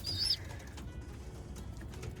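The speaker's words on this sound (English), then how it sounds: "the birds come towards you instead of running away from you" Racing pigeons in a loft give a brief burst of flapping wings and soft cooing at the start, followed by quieter rustling and low ambient movement.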